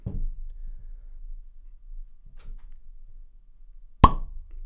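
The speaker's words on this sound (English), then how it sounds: "let's see how much I'm going to struggle with this cork" A cork pops out of a beer bottle from Oast House Brewery, one sharp close pop near the end after quiet handling noises and faint creaks.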